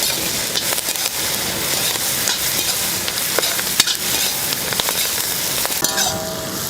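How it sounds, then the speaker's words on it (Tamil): Half a kilo of onions with curry leaves sautéing in a large pot of oil for tomato rice, giving a loud, continuous sizzle with stirring scrapes throughout. "வெங்காயம் வதங்கட்டும்."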